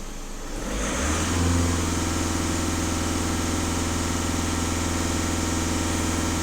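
Skoda Rapid 1.6 TDI diesel engine held at raised revs after a DPF and EGR cleaning, a steady loud drone that climbs in the first second and then holds even and continuous throughout.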